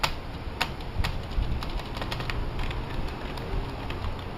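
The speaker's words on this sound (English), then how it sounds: "The space bar is so loud." Someone types on a US-layout computer keyboard with quick, crisp clicks and repeated sharper, louder thumps from the space bar. The keystrokes sit close and come in an uneven rhythm over a constant background hum.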